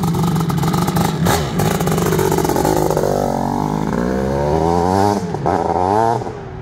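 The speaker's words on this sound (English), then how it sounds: "This bike has the Growler Racing exhaust system on it." A KPR KX500 two-stroke 500cc dirt bike fitted with a Growler Racing exhaust revs hard close by, its raspy engine note rising and falling through several throttle blips before cutting off at the end.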